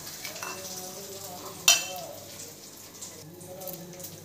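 Curry leaves and a spice mixture frying in a pan as they are stirred, a soft sizzle with scraping and one sharp clink of the utensil, fairly quiet and close.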